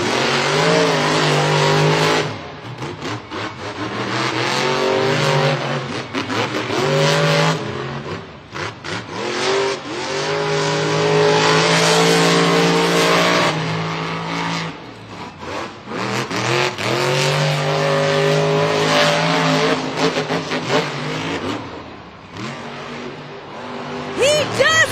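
Monster Jam monster trucks, including Jurassic Attack, roar and rev through a stadium racing final in Birmingham, Alabama, loud sustained engine drone rising and falling with bursts of acceleration, while an announcer and crowd noise run underneath.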